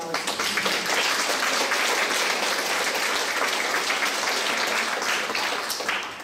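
Dense, sustained applause from a large audience in a congress hall at a women's committee congress, even and continuous before tapering slightly at the end, with no voices over it.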